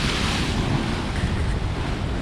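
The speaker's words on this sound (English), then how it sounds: "you can see how rough the surf is" Rough ocean surf with sneaker waves crashing near a rocky shoreline, a loud, steady broadband roar of breaking water mixed with heavy wind buffeting the microphone, continuous and close throughout with no voices.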